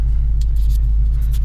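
A car engine rumbles steadily at close range, a deep continuous idle with no speech over it.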